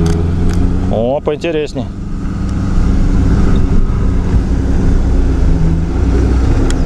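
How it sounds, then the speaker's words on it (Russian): A car with a 1.9 L, 120 hp engine is pushed at full throttle on a climb, its engine roar building loud and close under excited speech, then droning on steadily. "Газ пол нажал и не отпускаем."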